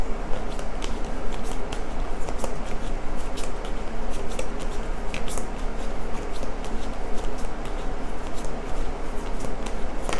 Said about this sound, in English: I'll pull one more card.